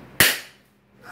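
A single sharp firework bang goes off close by, loud and abrupt, then decays into a fading rumble before faint crackling rises again near the end; no voices.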